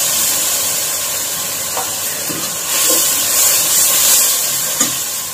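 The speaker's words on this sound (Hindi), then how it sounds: "तकरीबन आधा कप इसमें पानी का डाल देंगे" Half a cup of water poured into a hot pan of frying garlic and ginger paste for a fish curry, a loud continuous hiss and sputter with a few small pops, no talking.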